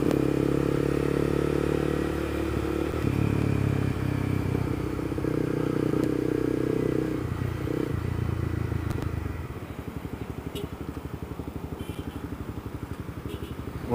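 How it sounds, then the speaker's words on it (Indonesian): A Honda CBR250R motorcycle fitted with an aftermarket exhaust revs loudly and steadily at close range, holding a throaty roar before dropping to a lower, rougher idle burble near the end. "Tapi ini motor ganti knalpot guys, digeber, disuruh dengerin gitu loh."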